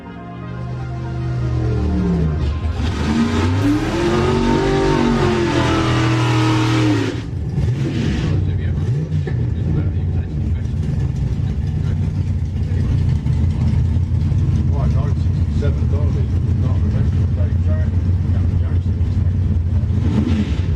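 Drag racing cars launching side by side off the line at an FIA/FIM main event, a roaring engine surge building and sweeping past, then a sustained loud drone of engines fading down the track.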